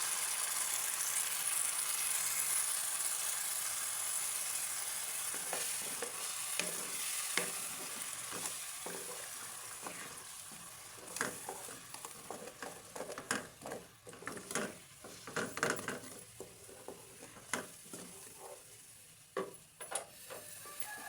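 Blended onion paste frying in a pan gives a soft, continuous sizzle, with a spoon scraping and stirring through it in irregular bursts that grow busier toward the end. No one talks.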